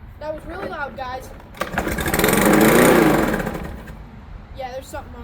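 A wet lawn mower engine cranks and catches after rain, swelling into a loud, rough roar for a couple of seconds before dying back down, with people talking before and after.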